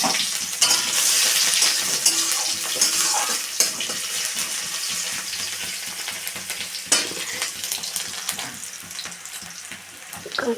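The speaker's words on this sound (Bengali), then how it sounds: "প্রথমে আমি ফোড়ন দেব" Whole spices for a Bengali phoron tempering sizzle and crackle in hot oil, a dense steady frying hiss with occasional sharper pops and stirring clatter, close and fairly loud throughout.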